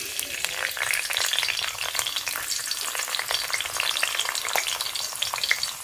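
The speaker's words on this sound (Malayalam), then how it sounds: "കുറച്ച് എണ്ണ ഒഴിച്ച് കൊടുത്തിട്ടുണ്ട്. നമുക്ക് വെളുത്തുള്ളി ഇട്ട് കൊടുക്കാം." Garlic crackles in hot coconut oil in a pan as part of a Kerala chicken curry, a dense, steady sizzle with sharp pops, close and continuous throughout, with no talking.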